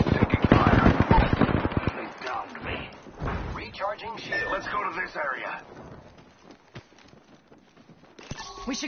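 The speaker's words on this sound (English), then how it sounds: "I am taking fire, friends." Rapid bursts of gunfire in a video game crackle loudly at first, then give way to scattered shots and thuds, with a voice speaking over much of the action.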